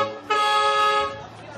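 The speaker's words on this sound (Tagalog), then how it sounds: "Pedicab, may busina." A single sustained pedicab horn honk, bright and buzzy, sounds for just over a second before trailing off, with faint background noise.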